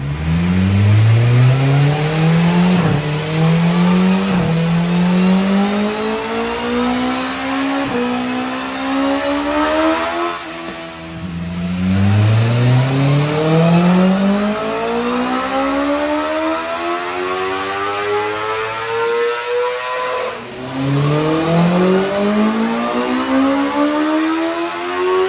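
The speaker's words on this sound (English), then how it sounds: "Got the 23RR on the dyno here. We're gonna see what the gains are today." 2023 BMW S1000RR superbike, flashed with velocity stacks, revving on a dyno, engine pitch sweeping upward through gears in repeated full-throttle pulls, loud and close with a high steady whine overhead.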